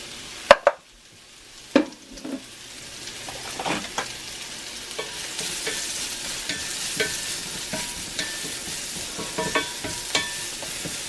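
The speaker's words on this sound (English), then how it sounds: "I'll saute my mushrooms." Mushrooms sautéing in bacon fat in a cast iron pan give a steady, close sizzle, with a few sharp clanks and scrapes near the start and light stirring knocks throughout, and no voices.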